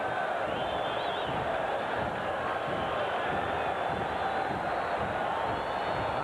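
A baseball stadium crowd of over 23,000 at a 1986 Mets–Reds game stands cheering and applauding, a steady, dense roar of voices and clapping that fills the whole stretch without a break.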